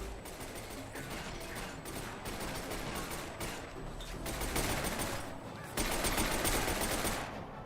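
Rapid machine pistol fire in F.E.A.R., loud bursts of rattling automatic shots in close succession with short pauses between them.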